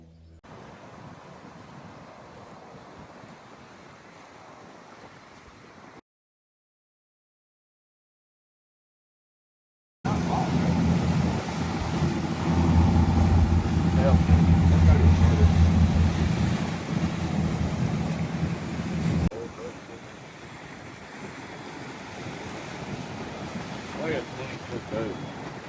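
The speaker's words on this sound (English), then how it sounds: "we went to the Everglades for an airboat tour" An airboat tour through the Everglades, a steady loud engine and propeller roar with wind buffeting the microphone, broken by a gap of silence before the roar returns stronger and then eases to a rushing drone.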